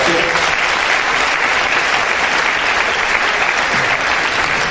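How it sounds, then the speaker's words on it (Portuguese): A church congregation applauds continuously, a dense, loud, sustained wash of clapping from many hands with no break. "Vamos aplaudir o nome de Jesus?"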